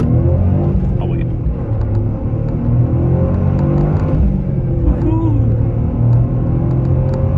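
A Toyota GR Corolla on the road makes a loud, steady engine drone and road rumble, with slight rises in revs. Close voices talk over the cabin noise.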